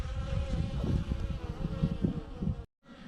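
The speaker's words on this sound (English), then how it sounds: "These are more Exeter bees." Exeter honey bees, a treatment-free colony, buzz steadily at the hive in a dense, close, continuous drone that cuts out abruptly near the end before resuming.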